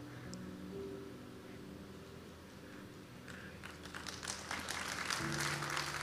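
Clapping rises from a church congregation during a sermon, scattered at first and then building into denser applause toward the end.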